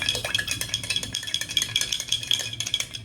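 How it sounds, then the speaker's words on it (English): Steady stirring of a sweet mixture flavored with vanilla essence, a busy run of close, quick scraping and clinking strokes against the bowl that carries on for several seconds with no talk. "I will be adding some vanilla essence for that sweet flavor, and you have to give the best stir"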